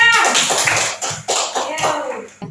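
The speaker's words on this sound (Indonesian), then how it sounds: "Oke, tepuk tangan sayang." First-grade children clap together in class in several short, loud bursts separated by brief pauses, with a few voices mixed in.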